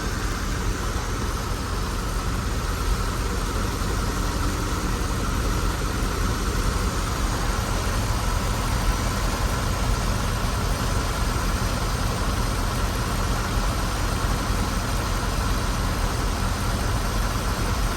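A Mercedes-Benz CL600 engine idles steadily with a broad, even hum and hiss, no talk over it, holding constant at moderate loudness throughout.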